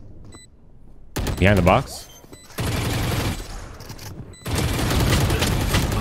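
Bursts of rapid automatic gunfire from the video game Valorant come in two long dense stretches after a short spoken question, loud and close, with a quieter pause between them.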